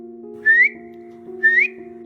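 Two short rising whistle-like tones from a human voice imitating a whistle, each about a quarter second, spaced a second apart over a steady low electronic hum.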